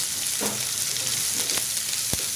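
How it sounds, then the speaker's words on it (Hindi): Chopped onions frying in a pan for a South Indian style dry boiled potato dish, a dense, loud, steady sizzle up close with a couple of faint stirring knocks. "इसमें डालेंगे जो हमने अनियन कटे हुए काट के रखे हैं वो अब इसमें डालेंगे"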